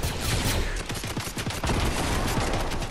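Rapid bursts of gunfire ring out in the video game Fortnite Chapter 2, a dense rattle of closely spaced shots running almost nonstop for a few seconds.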